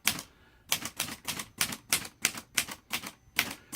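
A 1960s Italian-made Olivetti Underwood Lettera 32 manual typewriter clacks out about eleven sharp keystrokes on the J key in an even rhythm, each a crisp close strike with a short gap between, with no talking.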